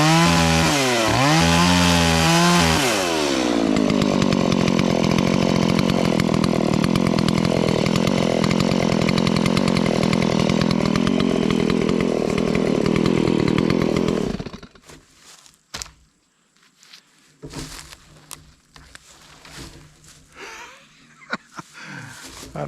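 A ten-year-old Stihl MS170 lightweight chainsaw starts with rough revving, then runs at a loud steady high idle before cutting off, followed by scattered knocks and handling noises.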